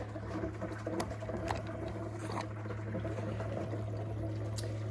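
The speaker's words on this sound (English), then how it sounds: "connect my reservoir here again. And when you do that, you'll see that it starts to do a little bit of a flush there." An ECOVIVA countertop reverse osmosis water filter flushing, a steady low hum with continuous trickling and pattering water and a few faint clicks, fairly quiet and alone.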